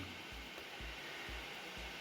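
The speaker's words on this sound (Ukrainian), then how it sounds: "Одразу звук у нас з'явився вентилятора, тому що є що охолоджувати." HP OMEN 15 gaming laptop with an i7-10750H and RTX 2060, its cooling fan whirring under full processor load: a steady, close airy whoosh like a hair dryer, with a soft low pulsing underneath and no talk.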